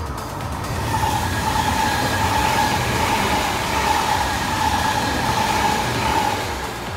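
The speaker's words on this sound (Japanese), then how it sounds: "かなり雨が降る中、883系やってまいりました。" A JR Kyushu 883 series Sonic limited express passes in heavy rain, a steady rushing rumble of wheels and carriages that swells and holds close, with a constant rain hiss and no talking.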